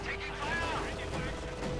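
Autocannon fire in the World War II strategy game Company of Heroes 2, a dense rattle of rapid shots and distant booms during a 1v1 match, with a commentator talking over the battle.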